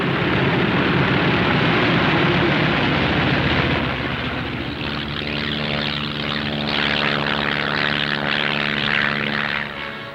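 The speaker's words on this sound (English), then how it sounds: "a first flight takes off in the sunrise, others following at regular intervals" A 1943 military propeller aircraft takes off from an Aleutian airfield at Adak, its engines roaring loudly and close. The roar then settles into a steady, throbbing drone as the plane pulls away.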